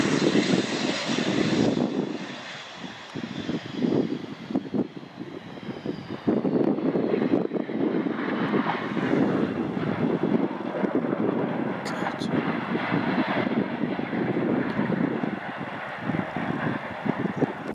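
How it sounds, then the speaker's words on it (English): An airplane with hydraulic problems lands without its landing gear, making a loud, sustained engine roar with scraping, rushing noise and wind buffeting. The noise dips briefly partway through, and voices can be heard underneath. "This plane had to land without its landing gear due to hydraulic problems."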